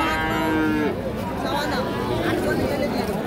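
A young bull at a livestock market gives one drawn-out moo up close, then the market's crowd chatter and voices continue around it.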